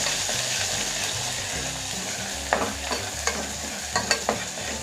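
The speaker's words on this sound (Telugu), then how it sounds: "బాగా కలుపుకోవాలి." Chilli powder and turmeric are stirred into a sizzling pan with a soft, continuous fry underneath and several sharp scrapes and clinks of the spoon near the end.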